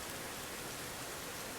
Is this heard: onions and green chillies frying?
no